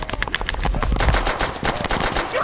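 Rapid gunfire from Call of Duty: World at War Nazi Zombies on the Der Riese map, dense bursts of close, loud shots firing in quick succession with no talk over them.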